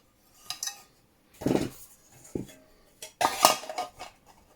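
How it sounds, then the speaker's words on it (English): Folding metal pot supports on a Swedish military M44 burner windshield lifted into place, giving several close clanks and clinks in short separated bursts with quiet gaps between. "The windshield has 2 folding pot supports which you can lift up, put to the edge."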